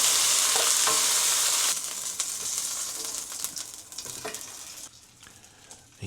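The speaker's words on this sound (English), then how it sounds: "Now we're just going to give it a little bit of an aggressive saute" Miso chicken sautéing aggressively in a pan, a bright steady sizzle that softens partway through as it is stirred, with occasional scrapes.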